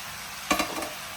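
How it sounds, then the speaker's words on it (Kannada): Carrots, peas, sweet corn, baby corn and beans sautéing in a pan for vegetable lemon rice, a steady soft sizzle with a brief burst of stirring in the middle. "ಇಷ್ಟು ಹಾಕಿ ಸ್ವಲ್ಪ ಬಾಡಿಸಿ ಲೈಟಾಗಿ ಕಡಿಮೆ ಮಾಡಿ"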